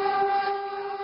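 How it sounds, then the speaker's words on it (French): A Philippine National Railways train sounds its horn, a steady loud multi-tone blast held throughout, close by. "la première fois que je conduis un train de la compagnie nationale philippine"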